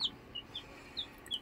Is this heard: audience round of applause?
no